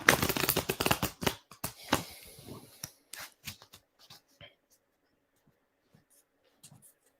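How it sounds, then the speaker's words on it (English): A deck of tarot cards shuffled close up, with dense riffling at first that thins into scattered soft taps and slides. The shuffling fades to near silence by the end, and there is no talking. "We shuffle this one next."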